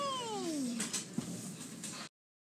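A cartoon cat in a claymation short gives a drawn-out, falling meow, followed by a few softer clicks and rustles before the sound cuts to silence.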